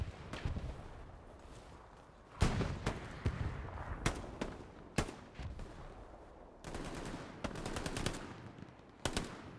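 Video-game battlefield gunfire from a shooter such as Warzone, Hell Let Loose or Battlefield 2042: scattered single shots and rapid automatic bursts, some close and punchy, others more distant, over a low rumbling ambience.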